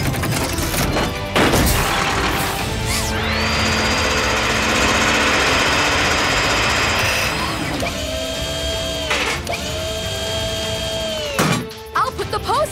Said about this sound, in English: Zuma, use the mini drill to make some holes.